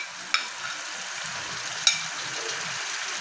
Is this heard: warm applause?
no